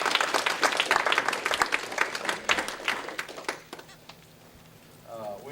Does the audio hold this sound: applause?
yes